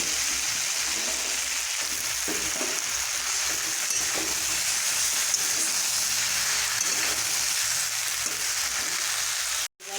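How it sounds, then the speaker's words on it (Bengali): Bottle gourd stems frying in a pan for a homestyle lau shaak chorchori make a continuous, even sizzle, close and fairly loud, with light stirring sounds, ending abruptly. "এবার আমি লাউ ডোবাগুলো দিয়ে দিব"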